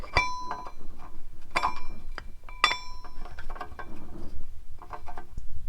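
A 3D-printed flywheel lock is fitted onto the dowel pins of an AE86 flywheel, making a few sharp metallic clinks and ringing taps followed by softer rattling handling sounds, close by.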